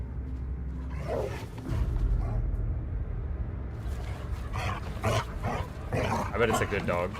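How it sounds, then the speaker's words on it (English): A dog in a horror video game barks and yips in several sharp bursts against a rumbling background, with a person talking over parts of it. "I bet it's a good dog."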